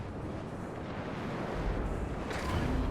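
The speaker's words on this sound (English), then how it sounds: "It's a nice little salvo there on that DD." Naval gun salvo in the World of Warships video game, a dense rumbling roar of heavy fire that swells in the second half, loud and steady with no voices over it.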